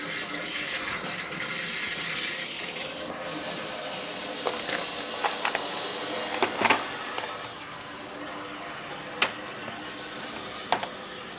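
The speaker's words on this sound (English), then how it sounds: "That was a toilet filling" Water steadily running as a toilet tank refills, a continuous hiss with a few faint knocks and clicks in a house during a heat pump water heater install.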